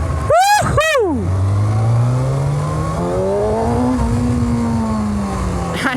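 A Kawasaki Ninja ZX6R 600cc superbike revs sharply twice, then accelerates in first gear up to 6,000 RPM with a rising, droning engine note close up, wind rushing alongside.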